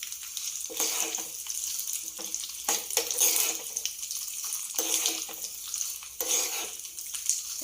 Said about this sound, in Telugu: మంట తక్కువ పెట్టుకుందాం తాలింపు మాడితే బాగుండదు మినపప్పు శనగపప్పు జీలకర్ర ఆవాలు